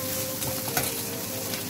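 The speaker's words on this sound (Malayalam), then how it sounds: "ഇതിൻ്റെ വെള്ളമൊക്കെ ഒന്ന് ഇറങ്ങി ഒന്ന് വാടി വരണവരെ നമുക്കൊന്ന് ഇത് ഇളക്കി കൊടുക്കാം" Green chili, onion and ginger sizzle and crackle in a frying pan while being stirred, a continuous close hiss with a few soft scraping strokes.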